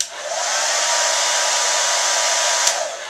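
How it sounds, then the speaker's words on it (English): A hair dryer runs at full power with a loud, steady rushing whoosh. It starts abruptly and holds level, with a small knock near the end and no talking. "let's hear the hair dryer again."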